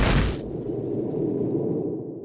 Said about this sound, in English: If an explosion happened too close to the player, he momentarily experiences simulated shock, sound gets muffled with blurred vision